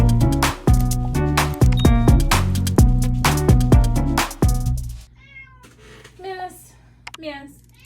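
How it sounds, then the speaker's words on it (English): A cat meows several times close by, high wavering cries following a stretch of loud music, then carrying on alone. "Miss Kitty has a lot to say on this subject"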